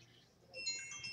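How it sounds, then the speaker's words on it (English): A mobile phone ringtone chimes in bright electronic tones during a fly-tying session, rising partway through and continuing to the end at moderate loudness. "my phone's been really busy today"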